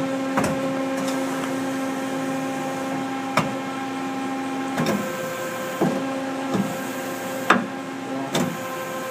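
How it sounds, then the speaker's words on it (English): Hydraulic tailstock on a 1997 Mazak Quick Turn 20 CNC lathe, a steady electric hum with a low motor drone, punctuated by several sharp clunks and knocks as the mechanism moves. "It's a programmable or hydraulic tail stock on this machine."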